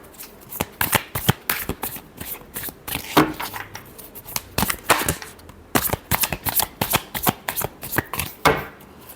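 Tarot cards shuffled by hand in a steady run of crisp riffling bursts, close and fairly loud, with no voices over them.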